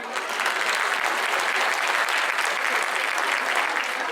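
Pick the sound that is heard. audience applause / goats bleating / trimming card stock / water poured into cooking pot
audience applause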